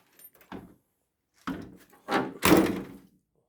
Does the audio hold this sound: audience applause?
no